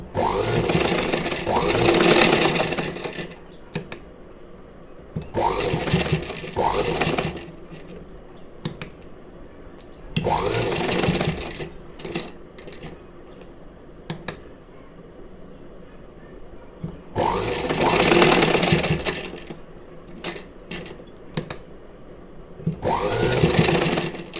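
A sewing machine stitches a hook and eye strip in several separate close bursts of whirring needle action, each running a few seconds, with quiet gaps between them.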